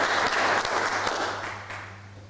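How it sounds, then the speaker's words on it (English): Audience applause at a graduation ceremony for higher certificate graduates, a dense wash of clapping that starts full and gradually fades over a couple of seconds. "Let's give a final round of applause for the higher certificate."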